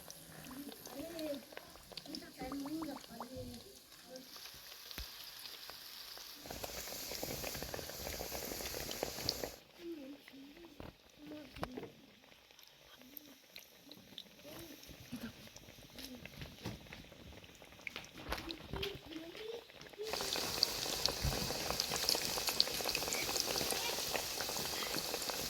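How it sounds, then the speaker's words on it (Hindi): Nadru (lotus stem) kebabs fry gently in oil over low heat, giving a steady soft bubbling and crackle that grows louder and brighter near the end, with voices heard intermittently. "इसकी हीट हमने कम रखी है, फिर ये अच्छे से फ्राई हो जाएंगे।"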